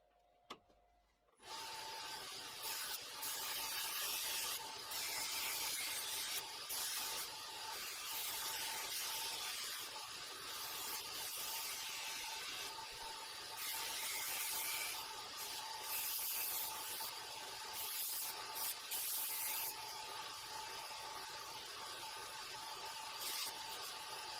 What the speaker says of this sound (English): Quick change over to a 240 grit belt for finishing.